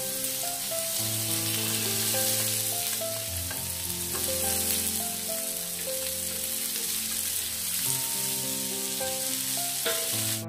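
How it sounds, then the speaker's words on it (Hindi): Mixed vegetables sauté in about two spoons of oil for vegetable pulav, giving a steady close sizzle with faint stirring scrapes throughout, under soft background music and with no talking. "ஒரு 2 ஸ்பூன் அளவுக்கு எண்ணெயை ஊத்தி இந்த காய்கறிகள் எல்லாமே போட்டு வதக்க வேண்டியதாம்"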